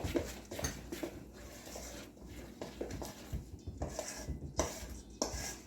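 A spoon stirs jalapeno into cornbread batter, giving soft repeated scraping and clinking strokes against the bowl at an even rhythm, fairly quiet and close, with no voices.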